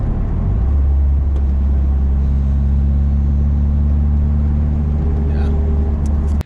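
Nissan 300ZX Z32 twin-turbo cruising, a steady loud low engine drone with a faint turbo whistle rising near the end before the sound cuts off.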